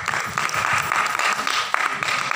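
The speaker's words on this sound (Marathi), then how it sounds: "जोरदार टाळ्या बाजू." Audience clapping at a Marathi light-music concert of old Hindi and Marathi film songs, a dense, fairly loud burst of applause lasting a couple of seconds with no voices.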